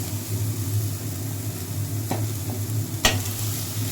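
Cauliflower and chopped onion fry in a pan with a little oil, a steady close sizzle broken by a couple of sharp scraping clinks from stirring, with no voices.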